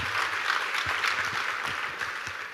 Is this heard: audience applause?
yes